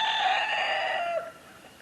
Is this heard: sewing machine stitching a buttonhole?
no